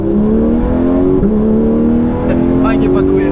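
Porsche 911 GT3 on a race track with traction control on, its engine revving hard and climbing in pitch as it accelerates, loud and close, with a brief shift dip and tyre noise near the end.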